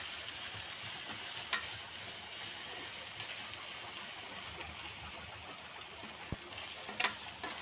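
Ginger paste frying in a pan for okra curry, a soft constant sizzle with occasional spoon scrapes and clicks as it is stirred, fairly quiet and without talk.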